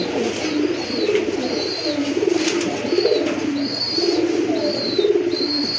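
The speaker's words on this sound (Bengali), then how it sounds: "এটা হচ্ছে আপনার রেড চেক কালার ভিতরে একটা নর খুবই ডাকে অলওয়েজ ডাকতেই থাকে" A red check male pigeon coos over and over in a steady, repeated rhythm, the calls close and clear and with no other sound competing.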